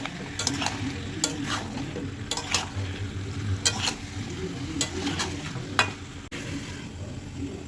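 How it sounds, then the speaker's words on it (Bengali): Fried ingredients and meat are stirred and scraped in a pan for a chicken thali, with steady sizzling and repeated utensil strokes close by. "এখন এই ভেজে রাখা দিয়ে দেবো মাংসগুলো দিয়ে দেবো ভালো করে নাড়িয়ে কষিয়ে দেবো"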